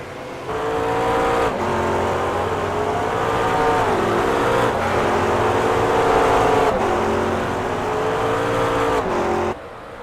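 GT3 class race cars roar around a circuit in a close battle, engines holding a loud, sustained note that rises and dips through gear changes, with one car sweeping past up close before the sound drops away near the end.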